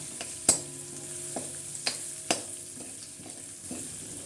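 Peanuts fry in a pan for poha, a soft steady sizzle broken by a few sharp clinks of the spatula against the pan.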